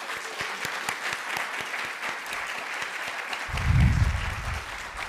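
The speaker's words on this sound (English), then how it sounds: "So I'd like to give all of them another round of applause." Applause for the students at a three minute thesis competition, a fairly steady wash of clapping from a seated audience, with a low thump near the end.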